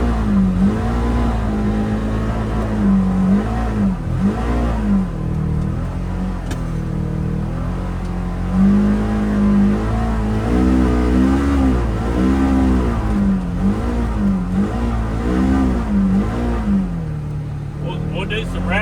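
Polaris Xpedition UTV engine droning and revving as it climbs a hill in below-freezing weather, a steady close cabin hum rising and falling in pitch throughout, with people talking over it.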